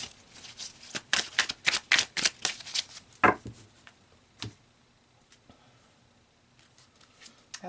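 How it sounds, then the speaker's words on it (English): A deck of tarot cards is shuffled up close, a rapid run of crisp riffling snaps followed by a few softer taps and slides as the cards settle. "let's pull a couple outcome cards for you guys, Aquarius"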